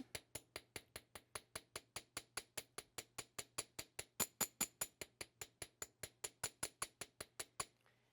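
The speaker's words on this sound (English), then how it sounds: "So I'm going to go ahead and take my hammer and flatten that out." Steady, rapid hammer strikes flattening metal wire loops, about thirty sharp ringing taps in an even rhythm, close and loud, with a faint background hum.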